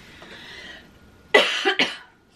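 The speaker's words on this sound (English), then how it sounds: "Sorry, this cough is never ending." A woman coughs in a short harsh burst of two or three hacks, close and loud, after a moment of quiet background.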